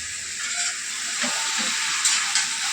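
Chicken and potatoes for a chicken curry fry in a pan while being stirred, a continuous close sizzling hiss with a few soft scraping stirs.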